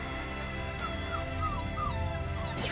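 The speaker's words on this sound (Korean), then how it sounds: "하루가 멀다 하고 어미를 찾아 낑낑대며 우는" A young puppy of a stray dog whimpers and whines for its missing mother, giving high, thin, drawn-out cries that rise and fall repeatedly, fairly close over a steady low background hum.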